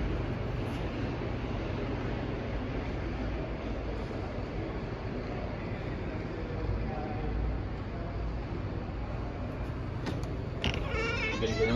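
A Spencer birdcage elevator descends inside a San Francisco parking garage, giving a steady low mechanical rumble and hum that fills the space, with faint creaks and a brief clank near the end.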